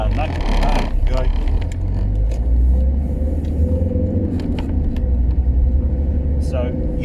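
Alfa Romeo 156 JTD diesel, Belmont edition, driving on the road, its engine giving a loud low rumble with road noise. Someone talks over it throughout.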